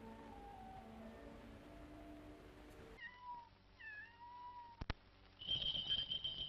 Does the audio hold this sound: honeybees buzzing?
no